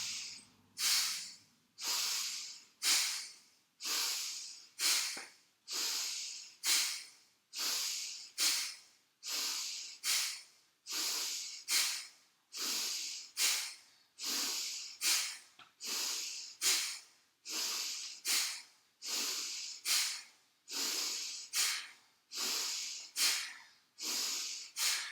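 Forceful, rhythmic yoga breathing during a hatha yoga class: about two dozen sharp, hissing exhalations through the nose, evenly spaced every second or so, close and clear with no talking.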